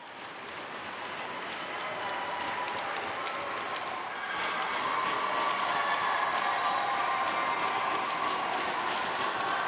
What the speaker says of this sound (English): The crowd is loving it here in Listowel